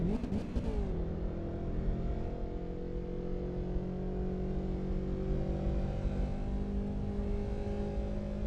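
Car engine in the racing game Assetto Corsa Evo, played in VR with a steering wheel, drones steadily and loud, revving briefly at the start and then holding a sustained tonal hum throughout.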